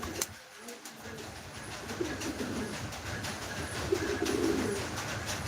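Low, soft pigeon cooing repeats over a steady background hum, with a brief thump at the start.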